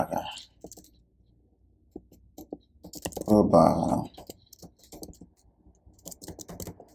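Someone types an email address on a computer keyboard, with light, close key clicks in short bursts, while a person talks over part of the typing.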